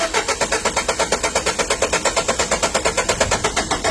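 A car engine cranks over with a battery jump starter, a fast rhythmic chugging of the starter motor repeating steadily and loud without catching.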